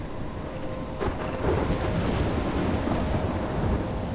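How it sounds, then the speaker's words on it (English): Thunder rolls through a steady downpour in the Life is Strange video game, a continuous wash of rain with deep rumbles swelling after the first second and lingering to the end. "I'm trapped in a storm?"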